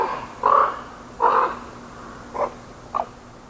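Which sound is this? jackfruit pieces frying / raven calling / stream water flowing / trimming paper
raven calling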